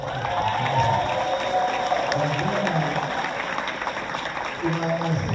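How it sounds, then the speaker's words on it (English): Crowd applause at an evening presentation in Houston, Texas, steady and moderately loud, with voices talking and calling over the clapping throughout. "I think we need to give them a round of applause"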